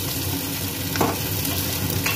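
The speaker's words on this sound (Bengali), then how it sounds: "একটু নেড়ে দিচ্ছি।" Chopped capsicum fries in a pan with green chilli, a soft steady sizzle broken by a couple of quick scraping stirs.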